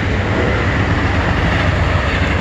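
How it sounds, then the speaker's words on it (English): A train rumbles past beside a creek bank in steady, loud, continuous low roar with a faint clatter of wheels, no voices over it. "There goes the train."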